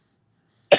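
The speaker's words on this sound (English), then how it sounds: "sorry, I'm going to cough again." A single sharp cough bursts out near the end after near-total silence, close and fairly loud.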